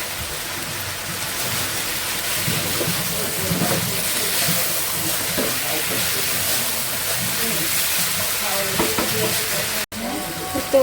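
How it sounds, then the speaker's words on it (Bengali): Steady loud sizzling of chicken frying with ginger and garlic paste in a pan, with scraping stir strokes throughout and a brief gap near the end. "একটু মুরগির সঙ্গে ভেজে নেবো"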